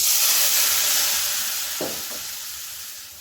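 Ground spice paste sizzles and fries in a pan while a spatula stirs and scrapes through it, a steady close hiss with a couple of brief scraping strokes near the middle, no talk.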